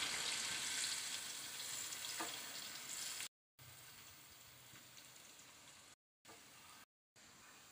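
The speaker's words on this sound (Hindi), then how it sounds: "और प्याज को हम थोड़ा सा ब्राउन करेंगे।" Large sliced onion frying in oil to brown, a soft steady sizzle like light rain that drops out briefly a few times, fairly quiet and alone.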